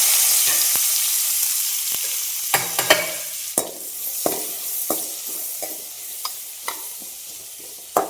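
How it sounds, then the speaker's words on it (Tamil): Onion, green chili and tomato sizzle and fry in a little hot oil with fennel seeds, with repeated scraping stirs and light clinks of a utensil against the pan at irregular intervals. "கொஞ்சமாக எண்ணெய் ஊற்றிட்டு கொஞ்சோண்டு சோம்பு தாளிக்கிறதுக்கு போட்டுட்டு அப்புறம் வந்து பார்த்திங்கன்னா நம்ம பச்சை மிளகா தக்காளி வெங்காயம்"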